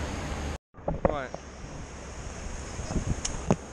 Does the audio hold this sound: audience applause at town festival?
no